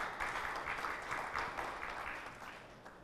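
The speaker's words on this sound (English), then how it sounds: "Can we have a round of applause for that?" An audience at a conference session on road safety applauds for speakers, a dense, fairly faint wash of clapping lasting throughout.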